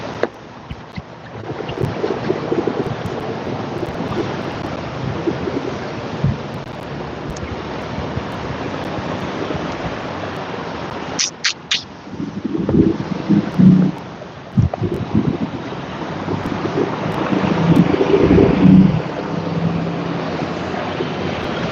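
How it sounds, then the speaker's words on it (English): Outdoor wind gusting and rising on a city street near restaurants, a continuous broad rushing roar that swells louder toward the end, with a few short thumps in the middle. "The wind's picking up."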